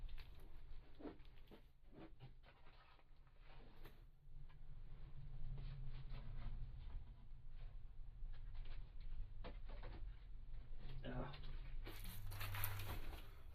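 Crinkling and rustling of a plastic bag handled close up in a plant nursery, with scattered crackles and soft tearing-like bursts running steadily throughout.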